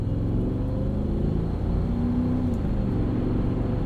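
A 2000 Mercedes-Benz ML55 AMG with a 5.4 liter V8 on the road, heard from inside as a low, steady engine rumble with road noise and a brief rise in revs, no talking.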